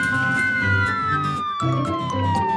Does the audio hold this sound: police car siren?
yes